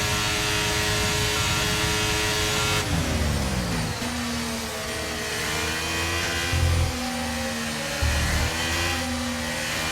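A Formula 1 car races in the F1 23 video game, its engine whining loud and steady, the pitch sliding down and back up through gear changes and braking.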